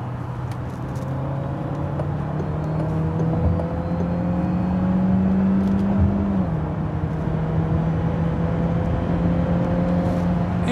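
Citroen C5 X plug-in hybrid with a 225 hp powertrain and eAT8 gearbox accelerating hard in hybrid mode onto an expressway, a steady engine drone rising in pitch through a gearshift, heard loud and close from inside the cabin with no talk.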